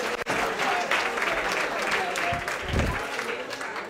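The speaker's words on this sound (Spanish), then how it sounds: "Un aplauso a estos señores" Applause from a lecture audience in an economics class, a full roomy wash of clapping with a few murmuring voices and a low thump partway through.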